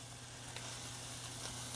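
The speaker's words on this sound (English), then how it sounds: "I can see my garlic starting to actually sizzle." Garlic and blanched rapini sizzling in a hot pan, a faint, steady hiss of frying with no voices.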